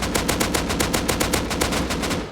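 Rapid automatic gunfire in the video game Rust, a loud, close, steady burst of evenly spaced shots running for a couple of seconds with no talk.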